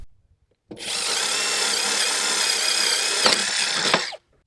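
A power drill bores a starting hole for a jigsaw cut, one steady high whir of about three and a half seconds close by, with a couple of brief surges near the end before it stops.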